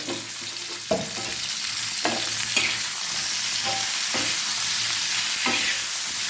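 Tomato pieces and green chillies fry in a little oil on a tawa, crackling steadily up close while a spatula scrapes and stirs every second or so, with no talking.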